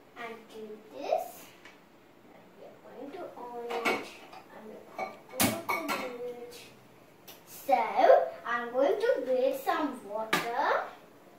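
A bowl being cleaned by hand, with clinks and scrapes of dishware and cutlery coming in bursts close by, while a person talks throughout.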